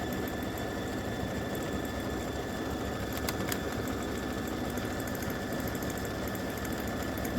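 Embroidery machine stitching a patch in blue thread, a steady mechanical hum and rapid needle chatter running continuously at even volume, fairly close, with faint clicks partway through.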